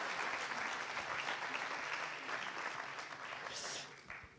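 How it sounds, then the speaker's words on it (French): Indoor audience applause at a French innovation awards event honouring a Segway rental business, a dense burst of clapping that tapers off over a few seconds. "Ça mérite aussi applaudissements."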